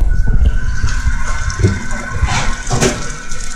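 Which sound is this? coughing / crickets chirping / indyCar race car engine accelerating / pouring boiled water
pouring boiled water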